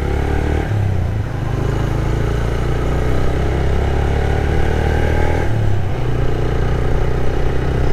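A new motorcycle brakes and downshifts into second and then first gear. The steady, loud engine drone drops in pitch twice as the gears change, with the engine running close throughout.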